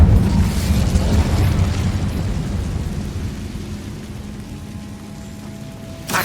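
Incendio fire spell in Hogwarts Legacy, a deep rumbling blast that starts loud and slowly fades over several seconds, with a faint sharp burst at the very end.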